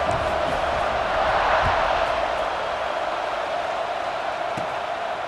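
A stadium crowd roars steadily in a college football video game, a loud continuous wash of cheering and noise that swells slightly and then holds through the whole stretch.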